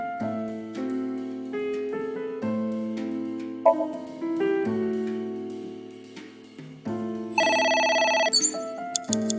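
A telephone rings insistently in the video game AI: The Somnium Files, a repeating melodic ringtone pattern that runs throughout, with a louder, brighter burst near the end.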